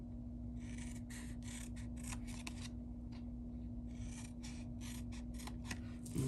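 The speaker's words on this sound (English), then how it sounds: "We're gonna cut up the score line on all of these." Scissors cutting card stock along a scored line for a heart-shaped box craft project, heard as two runs of quick, close snipping strokes over a steady low hum, with no talking.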